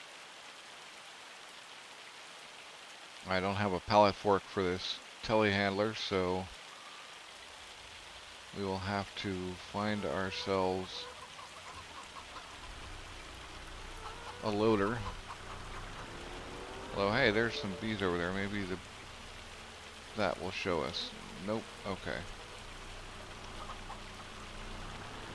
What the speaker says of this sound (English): no, it's rain.